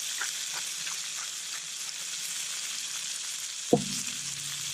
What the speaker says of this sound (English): Give it a couple more minutes of just frying in there.